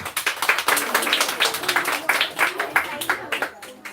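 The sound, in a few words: audience applause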